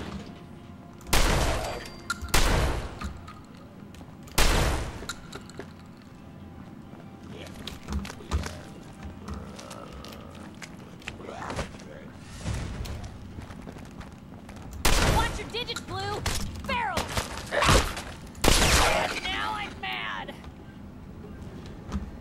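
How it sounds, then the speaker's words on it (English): Bursts of gunfire in Fallout 4, loud shots and rapid volleys separated by quieter gaps, with scattered game sounds between them. "I'm shooting Piper, I'm shooting dead guys"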